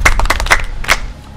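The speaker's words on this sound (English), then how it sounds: "Clap for her." A classroom of pupils clapping for a classmate in a Nigerian film scene, a short burst of several sharp claps in quick rhythm, close and loud, then quickly stopping.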